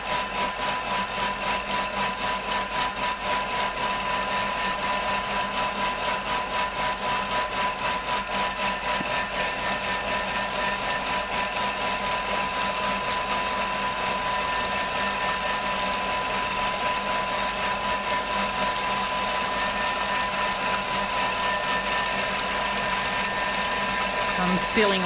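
A Thermomix whirs continuously while blending egg-free mayonnaise, a steady motor hum with a constant high whine that holds unchanged throughout, close and fairly loud.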